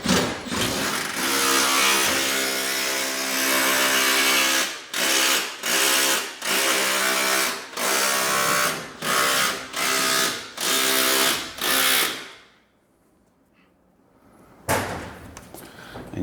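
A power drill drives 5/16 by 2 1/4 inch Tapcon screws into a garage wall in loud, sustained whirring bursts, followed by a quick string of short pulses and then a pause before one more burst.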